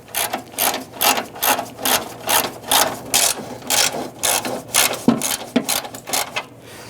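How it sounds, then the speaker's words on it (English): A ratchet loosens fender bolts on a 1997-2006 Jeep Wrangler, clicking in about a dozen quick, even bursts close to the mic, with a sharper metallic knock near the end. "I'm going to continue to loosen and remove these bolts."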